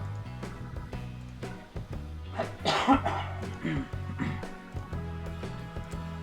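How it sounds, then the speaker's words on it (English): Several short coughs break out close to the microphone, with a heavier burst in the middle, over a low engine-like hum. "Apologies for the coughing."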